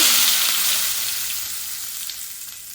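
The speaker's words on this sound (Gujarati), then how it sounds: "તેલ આવી જાય પછી આપણે વઘાર કરી નાખશું આવી ગયું છે તેમાં મીઠો લીમડો" Curry leaves crackle and sizzle in hot oil for a Gujarati dal tempering. The hiss is loud and continuous at first and eases slightly as it goes on, with no voices.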